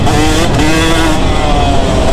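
A two-stroke motorcycle engine revving hard, a loud, constant, buzzing drone heard close up without a break.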